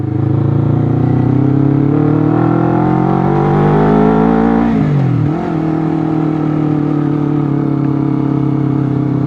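A Honda CBR 250 RR twin-cylinder motorcycle revs hard, its loud engine whine climbing steadily in pitch toward high RPM, briefly dropping at a gear change, then droning on, close and alone.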